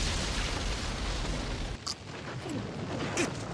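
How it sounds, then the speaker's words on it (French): An explosion in a video game fight with Ichigo, a dense, roaring blast that fills the opening stretch, then cuts off into quieter game effects with a few sharp hits. "Mais c'est quoi cette explosion?"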